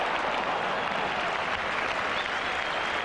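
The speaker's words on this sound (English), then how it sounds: "The crowd still digesting that splendid goal." A stadium crowd at a 1980s Tottenham football match applauds after a goal, a sustained, even wash of clapping from a large crowd.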